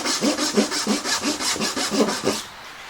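A hand saw cuts a dovetail in wood with about nine even, close push strokes, a rhythmic rasping that stops shortly before the end.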